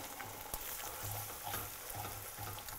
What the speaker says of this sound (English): I'm going to break 4 eggs into the pan. And break the eggs up.